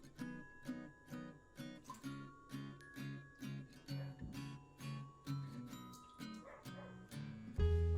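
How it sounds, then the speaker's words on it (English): Dogs bark repeatedly outside behind a kitchen where duck legs are going into a slow cooker, a steady run of yaps and whimpers at moderate distance with no talk over them. "Dogs barking out the back"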